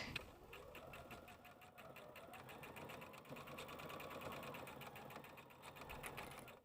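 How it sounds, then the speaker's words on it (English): A sewing machine stitches around the top edge of a fabric bag with a quarter-inch seam allowance, making a steady fast whirring, needle-tapping rhythm that runs without a break and sounds quiet and close. "I'm going to stitch all the way around the top edge of this bag with the 1/4 inch seam allowance"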